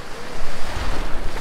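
Cold ocean surf rolling in at an Australian beach, loud and close with gusty wind buffeting the microphone, swells of wash rising and falling over a short stretch.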